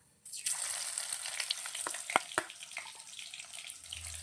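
Garlic paste hits a hot pan for a prawn malai curry, setting off a loud, steady sizzle that holds throughout, broken by a few sharp stirring clicks near the middle.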